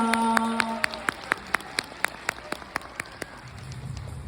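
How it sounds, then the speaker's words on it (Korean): Sharp, evenly spaced claps ring out in a steady rhythm after a kindergarten children's performance at a preschool concert. A tonal musical sound fades at the start and a low hum enters near the end. "박수 부탁드리겠습니다"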